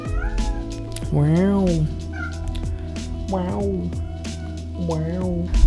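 House cat meowing indoors, three drawn-out rising-and-falling meows spaced a couple of seconds apart, close and fairly loud, with a person briefly speaking in between.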